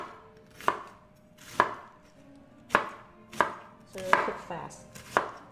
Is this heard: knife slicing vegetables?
yes